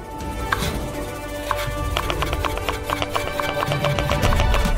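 Rapid, regular knife chops slicing potatoes into thick slices on a board, a quick series of crisp cuts over a low background hum.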